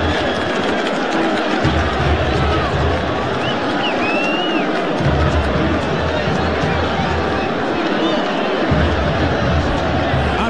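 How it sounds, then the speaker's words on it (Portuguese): Vasco fans roar and chant in the stands at São Januário stadium after a goal against São Paulo, a dense, sustained crowd din with a commentator's voice over it. "A torcida fazendo festa."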